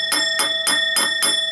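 A cheap Dick Smith singing bowl struck like a school bell, five bright metallic dings in quick steady succession with sustained high ringing tones and little warm resonance.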